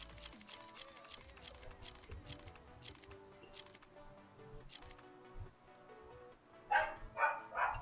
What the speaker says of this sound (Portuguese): Tá chegando, acho que entrega aqui, os cachorros ficam loucos